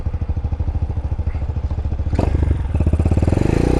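A motorcycle engine pulls away as the clutch is feathered out, a loud, close, steady pulsing rumble that rises in pitch and intensity partway through as the bike accelerates.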